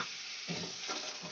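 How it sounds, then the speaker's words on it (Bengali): Soaked spice paste hits a pan of tomatoes cooked down in oil and fries with a soft, low sizzle, gentle bubbling surging briefly midway, quiet and without talk. "মশলাটা দিয়ে আমি ভালো করে কষিয়ে নেব"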